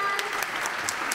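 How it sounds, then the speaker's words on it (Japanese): Brief burst of clapping from a crowd, dense and steady hand claps filling the moment. "拍手をお願いします。"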